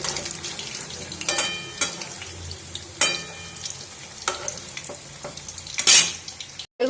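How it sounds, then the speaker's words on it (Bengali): Chicken pakoras fry in hot oil for a first light browning, giving a steady sizzle with scattered crackles and the scrape and clink of stirring, close and without speech. "এগুলো একটু ভেজে নেব হালকা লাল লাল করে, কারণ আরেকবার ভাজতে হবে আমার এটাকে"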